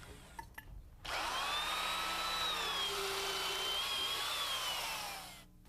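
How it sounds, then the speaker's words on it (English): A heavy-duty drill motor drives a sharp auger bit through a wooden sill, a steady whining grind of about four seconds that spins up sharply and winds down, close and loud. "We use a heavy-duty drill motor and a good sharp auger bit to drill our holes"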